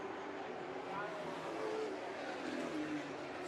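Spears Pro Late Model stock cars race a 75-lap main event at All American Speedway, their engines a steady, distant roar that stays continuous and even throughout.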